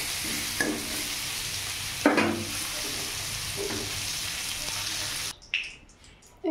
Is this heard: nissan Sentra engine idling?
no